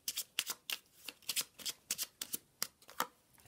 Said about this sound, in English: I'm going to give it a shuffle and ask about your lover